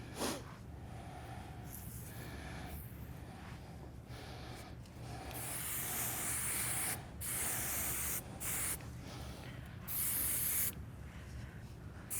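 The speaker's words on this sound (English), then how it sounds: "I like to grab like just a medium holding spray" Medium hold hair spray being sprayed during hair styling, several close, hissing bursts of aerosol, the longer blasts in the second half, over quiet background rustle with no speech.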